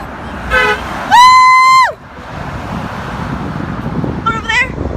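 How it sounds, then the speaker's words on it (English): A car horn sounds on a cold street, a short toot followed by a longer steady blast, then a faint brief honk further off over low traffic rumble. "She honked after she looked at me."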